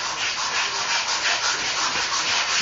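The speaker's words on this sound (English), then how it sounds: "And I'm scrubbing it and spreading it into that wall." A brush scrubs Minwax gel stain into a bathroom wall with short, soft back-and-forth rubbing strokes, close and fairly quiet, with no voices.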